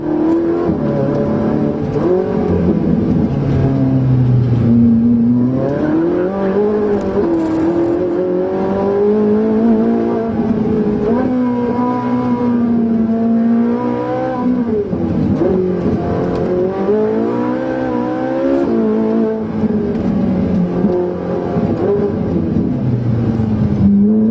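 A Ferrari accelerates hard out of a second-gear hairpin and up through the gears along a straight, its engine note climbing and dropping with each shift, loud and close throughout with no talk.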